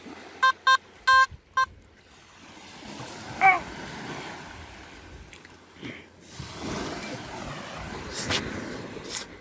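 Several short, sharp electronic beeps from a Simplex metal detector on a beach, followed by faint surf and wind with rustling and scuffing sounds.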